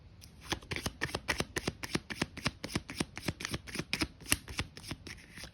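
A deck of cards shuffled over and over in a fast, even run of crisp riffling snaps, close and clear with no talking.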